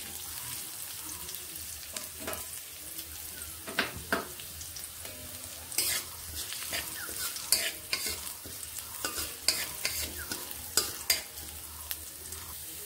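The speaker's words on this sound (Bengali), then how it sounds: "আদা লঙ্কা জিরেগুলোকে এইভাবে নেড়ে" Chopped ginger, green chilli and cumin are stir-fried in a kadai, with a continuous soft sizzle and repeated sharp scraping and clinking of the spatula against the pan at an irregular rhythm, close up and with no talk.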